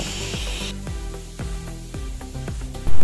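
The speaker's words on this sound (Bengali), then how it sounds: "বরবটিগুলো ভাজতে থাক।" Long beans (borboti) fry in oil with salt, giving a steady hiss and sizzle, with rhythmic scraping strokes and a louder burst near the end.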